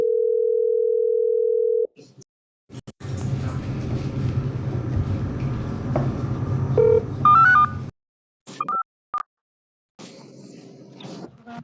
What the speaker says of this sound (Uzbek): Boshqatdan telefon qilayapman.